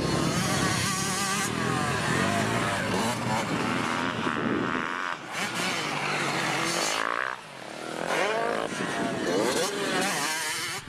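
Dirt bikes ride around a motocross track in Topeka, engines droning and revving continuously at close range, with the pitch rising and falling as riders accelerate through the circuit.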